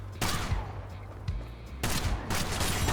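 Gunshots in the video game Kill The Crows, a series of sharp blasts with a sustained reverberant rumble between them, loud and close, in two bursts with a brief lull.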